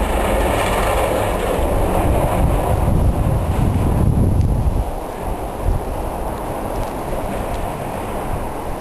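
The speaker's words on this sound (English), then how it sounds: "More wind than anything, I think." Strong wind gusts through a snow storm, a loud, continuous roar buffeting the microphone that eases after about five seconds into a lower, steadier rush.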